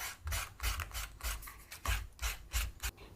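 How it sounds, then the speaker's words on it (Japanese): Sandpaper is rubbed in one direction across a slim leather glasses case, giving a series of quiet rasping strokes in a quick, fairly even rhythm, close up and with no talk. "紙やすりで一度落とします。 一方方向に削ってください。"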